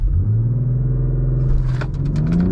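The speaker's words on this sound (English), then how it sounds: "So let's go and use our launch control here." BMW M340i xDrive launching hard under launch control, a loud, close engine roar climbing steadily in pitch over a couple of seconds as the car accelerates.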